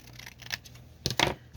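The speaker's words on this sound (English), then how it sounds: "Just fold it over and cut that little bottom off." Scissors snipping through folded paper card for a journal tag, a few close crisp cuts with light paper rustle and no talking.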